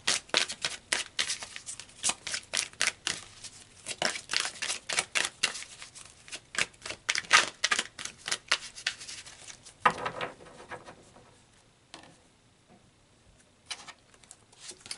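Tarot cards are shuffled in a long run of quick, crisp riffling slaps, close and fairly loud, then a few softer card handling sounds as they are pulled and laid down.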